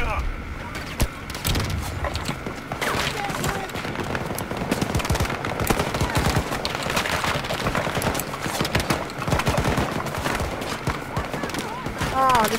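Rapid gunfire and explosions from the Battlefield 2042 video game fill the whole stretch, dense and continuous, with players' voices talking over the combat.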